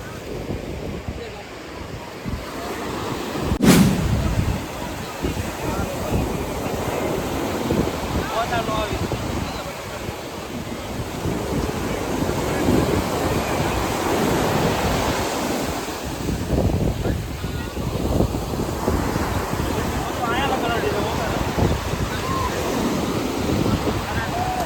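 Sea waves at Koliyak beach near Bhavnagar wash in steadily and loudly, with a continuous roar of surf mixed with strong wind buffeting the microphone and a sharp bump near the start.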